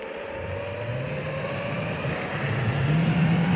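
An ELOFTY Noah's Ark gear-drive electric skateboard with 6-inch wheels in S Plus mode climbs a steep hill, giving a steady whirring motor drone and rolling road hum that rises slightly in pitch and loudness toward the end; no voices.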